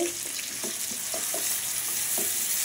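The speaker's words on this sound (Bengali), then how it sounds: "পেঁয়াজটাকে লাল লাল করে একটু বাদামি কালার করে ভেজে নিব" Chopped onions frying in oil in a pan for a chicken curry, a constant close sizzle broken by several soft stirring knocks, with no voices.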